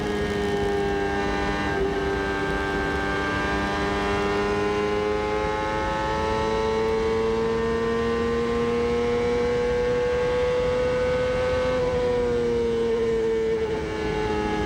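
A CART race car at Homestead in 1999, heard onboard, holds a steady loud engine whine that shifts pitch slightly as the driver eases off the throttle, continuous and close for the whole stretch.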